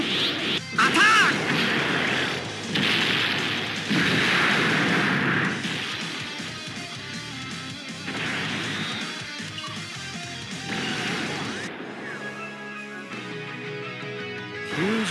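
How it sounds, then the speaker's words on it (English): Final Shine attack effect in a Dragon Ball mobile game, a long loud barrage of crashing impacts and energy bursts layered with shouted voice lines, changing intensity across several seconds. "Final Shine! Attack!"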